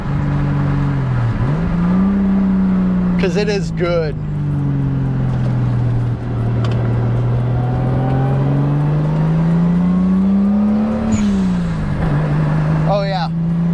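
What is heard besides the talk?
car exhaust sound while driving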